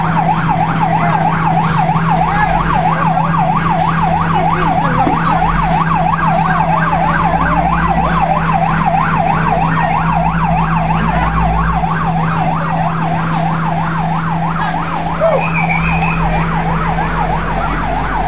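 A fire truck arrives at a house fire in Sorsogon City with a loud, close, wailing siren that rises and falls rapidly and steadily over a low engine rumble.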